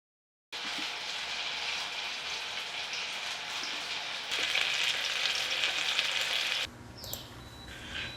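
Batter-dipped banana fritters drop into hot coconut oil and fry with a steady, dense crackling hiss that swells louder midway, then eases to a softer sizzle with a few faint clinks near the end.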